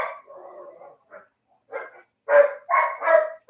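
Dogs bark indoors, starting with softer muffled yips and rising to a run of loud, close, rapid barks toward the end, with no talking.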